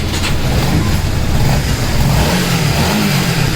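A Honda CBR 150R Repsol motorcycle engine, recently repaired of a knocking noise, runs close and loud, its steady rumble swelling into revs throughout with no voices over it.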